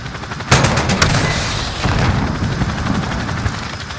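Rapid automatic gunfire from Call of Duty: Modern Warfare crackles in loud, dense bursts with sharp reports at the start, then a sustained rattling barrage with booming undertones that continues to the end, with no speech.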